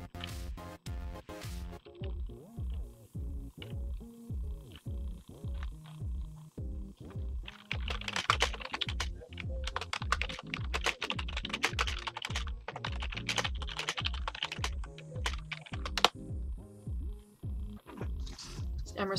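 Fast, steady typing on a computer keyboard fills the whole stretch, dense close clicking that grows busier and louder partway through, with no talking over it.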